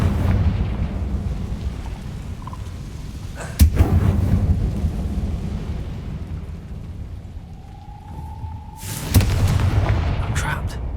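A Confringo blasting spell in the Hogwarts Legacy video game bursts with two sharp explosive booms several seconds apart over a low rumbling game ambience.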